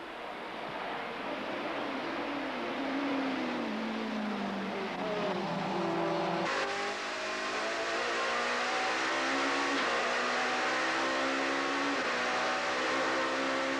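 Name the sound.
touring race cars at Killarney circuit, 1993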